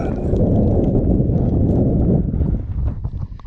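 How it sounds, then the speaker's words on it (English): Strong wind buffeting the microphone in a constant low roar on an exposed hilltop, easing slightly toward the end. "It's a bit windy up here."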